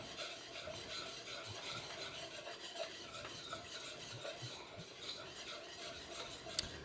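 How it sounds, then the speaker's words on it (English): A spoon scrapes and stirs flour into turkey gravy in a pan, a soft continuous rasping with faint sizzle underneath, quiet and close, ending with a sharp small clink. "I'm just going to keep cooking this and stirring this until this flour taste cooks off in this"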